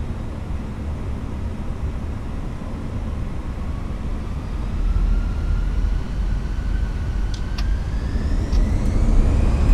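Steady roar of Airbus A320 engines spooling to takeoff thrust in Microsoft Flight Simulator 2024, a broad continuous rumble that swells louder over the run with a rising whine on top.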